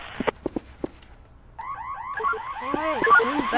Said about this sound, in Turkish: Burada da alarm çalıyor buraya yaklaşınca nedense